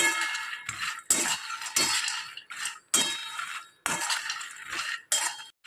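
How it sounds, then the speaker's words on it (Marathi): Fox nuts roasted dry in a pan for nutritious ladoos, stirred with a utensil that gives repeated scraping, rattling strokes in bursts with short pauses, close and fairly loud, no talking. "मखाने मी काही थोडंसं परतून घेणार आहे चांगलं"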